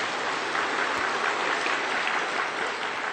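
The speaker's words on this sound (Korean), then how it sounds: "우리 하나님 앞에 감사 박수예요" A church congregation at Incheon Full Gospel Church applauds in thanks during a Sunday sermon, a dense, steady wash of many hands clapping that fills the room evenly with no voices over it.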